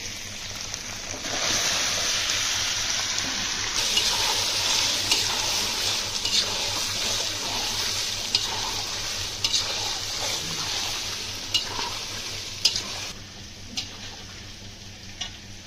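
Potatoes sizzling in a hot pan, a dense steady frying hiss with scraping and ticking stirs throughout, close and fairly loud, no voices.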